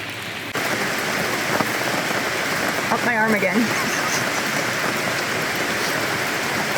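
Steady rain pours onto a tent and its rain fly at a wild-weather campsite on Vancouver Island, a dense, unbroken hiss throughout, with a brief spoken remark partway through.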